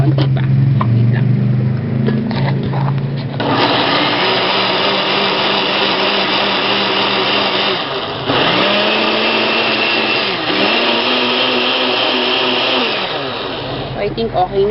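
A blender whirs loudly and steadily as it purees onions and garlic, the motor pitch dipping briefly a couple of times mid-run.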